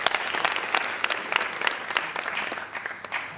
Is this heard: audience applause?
yes